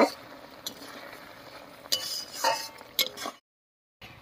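A spoon stirs and mixes sweet pumpkin curry in a pan, giving close clinks and scrapes against the metal in an uneven rhythm, then a brief silence.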